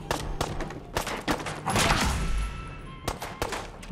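Bursts of gunfire in the video game Fallout 4, with several sharp shots and rapid volleys over about four seconds, loud and close, with no clear talking.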